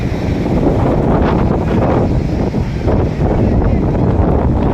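Strong, steady wind with rain roars and buffets the microphone at Kovalam Beach, a loud continuous rush with surf-like noise underneath.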